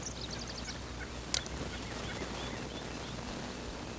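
A wild spring gobbler in open country lets out one sharp, loud gobble partway through, after a few faint, quick high calls at the start, all over a steady outdoor background hiss.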